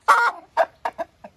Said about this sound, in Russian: Самая натуральная квочка.